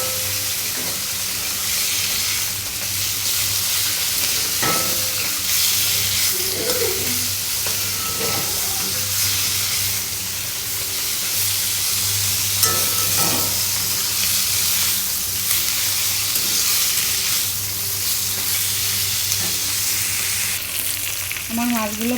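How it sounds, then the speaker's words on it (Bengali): Pieces of rui fish fry in a pan of oil, giving a long, even, close sizzle with scattered spatula clinks and small pops running throughout. "আমার মাছগুলো ভাজা হয়ে গেছে"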